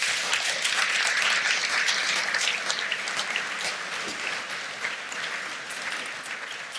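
Sustained audience applause at a cultural talk on democracy fills the room, dense and steady before gradually thinning out and softening toward the end.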